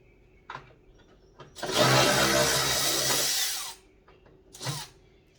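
A power drill backs out T30 Torx screws from the side of a 2013 Audi Q5 front bumper, one loud steady whirring burst of about two seconds, then a short second spin, with a few quiet clicks and handling noises around it.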